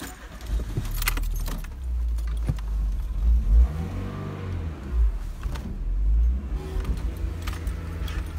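A VW Golf convertible pulls away, its low engine rumble rising in a brief rev under a loud jangle of keys, with the drone continuing steadily afterward.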